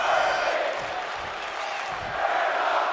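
A large arena crowd in the WWE 2K26 wrestling video game roars steadily throughout, a dense wash of cheering and shouting at constant loudness with no clear pauses.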